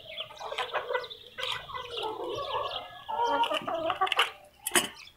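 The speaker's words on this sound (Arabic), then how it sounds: "الفراخ دي امشي يلا بعيد عني" Chickens cluck and chatter close by in a home setting, a busy overlapping flock with irregular bursts of clucks and squawks, joined by a faint human voice.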